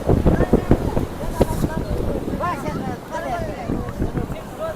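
Strong wind buffets the microphone beside the water at a dam in Kandahar, rumbling in uneven gusts, loudest at the start, while a person talks through it.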